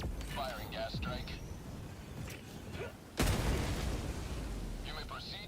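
Gas strike artillery fire in the video game Darktide: a sudden loud blast hits partway through, followed by a sustained roaring rumble, with game voices and chatter heard before it.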